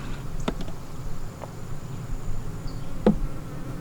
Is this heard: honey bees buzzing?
yes